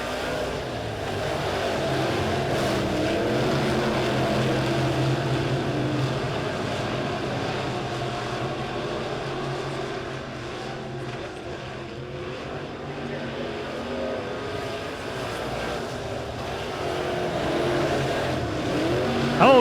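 USRA B-Modified race cars roar around a dirt oval at Springfield Raceway under the lights, a dense continuous engine drone from several cars battling through the turns, steady and loud throughout.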